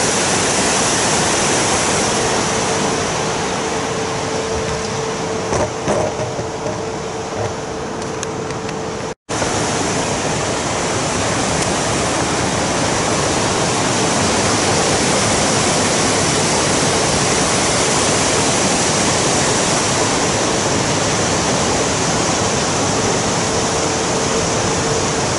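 Water pouring down from the Wimbleball Lake dam into the river, a constant dense roar of rushing water with no break, loud and close.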